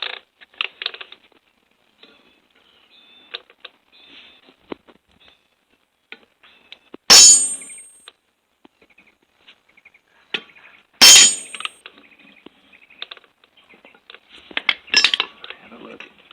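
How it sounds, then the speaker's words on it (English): A ball-peen hammer strikes another ball-peen hammer set on a rivet, flaring it during a tip replacement on a 24-inch Forester chainsaw bar. Three sharp, ringing metallic blows land a few seconds apart, with faint clinks between them. "smack that with another ball-peen hammer, and that opens or flares the rivet"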